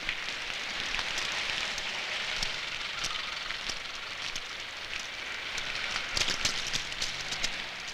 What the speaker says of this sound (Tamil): என்ன கதிரேசா மழையில அலைஞ்சிக்கிட்டு இருக்க